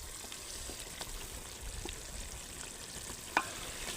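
Curry gravy sizzles and fries in a pan at an outdoor rainy campsite as chili powder is added, a steady close hiss with light stirring scrapes and one sharp clink.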